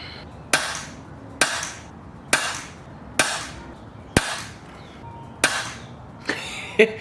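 Air rifle firing bent-skirt lead pellets outdoors, seven sharp, evenly spaced shots roughly a second apart, each a crisp crack with a short decaying tail, close and clear over quiet background.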